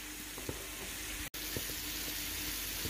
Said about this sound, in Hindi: अब देखिए मैं इसको बस हल्के से भुनाई कर रही हूँ, 1 से 2 मिनट में इसकी अच्छे से भुनाई कर लूँगी।